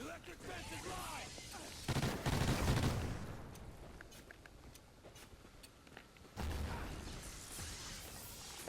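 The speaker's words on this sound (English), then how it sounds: "what I'm shooting right now is the explosive ammo" Explosive ammo rounds fire in a Call of Duty shooter, with bursts of gunfire and booming impacts in loud clusters and quieter, scattered shots between them.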